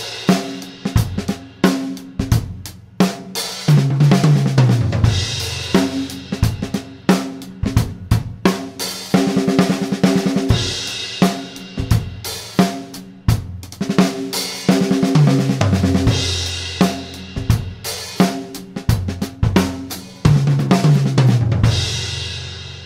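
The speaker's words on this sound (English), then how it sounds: "This is paradiddles as a drum fill, as sextuplets, 16th note triplets, starting on beat 3." A drum kit plays a paradiddle sextuplet fill starting on beat 3, with fast sticking rolling across toms and snare between cymbal crashes and kick hits. The grooves and fills repeat loudly and continuously, with no talk.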